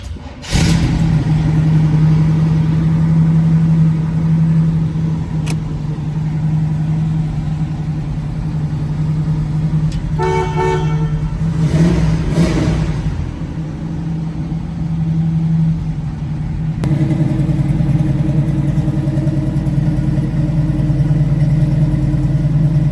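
A 1969 Chevrolet Camaro with a 454 V8 idles with a deep, steady rumble close by, rising in a brief rev partway through before settling back to a loud, even idle.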